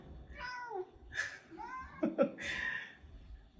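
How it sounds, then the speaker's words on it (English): A hungry cat meows repeatedly for food, several drawn-out, rising and falling cries close by, with faint background noise between them. "This is what happens when you film near a cat who loves food."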